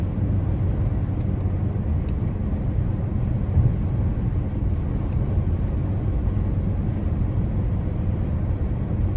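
A 2013 Audi A8 L with a 333 hp 3.0-litre supercharged V6 cruising at highway speed, giving a steady low drone of engine and road noise with constant loudness and no voices.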